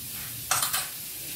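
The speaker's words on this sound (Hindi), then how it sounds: "अच्छे से मिक्स करेंगे।" Paneer kulcha filling being stirred in a pan, a quick run of three scraping spoon strokes over a faint steady background hiss, close and brief with no voices.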